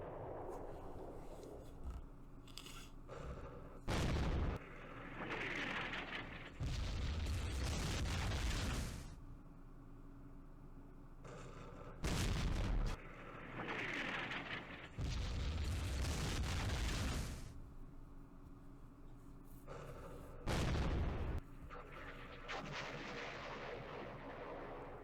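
Airstrike explosions in the Vietnam War strategy game Campaign Series Vietnam, at the Battle of Khe Sanh Village 1968: several heavy booming blasts, loud and broad, come in separate bursts with rumbling gaps between them, and no voices are heard.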